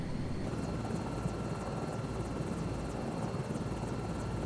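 A helicopter in the video game Microsoft Flight Simulator 2024 drones steadily with a rapid rotor chop, constant and fairly close, with no talk over it.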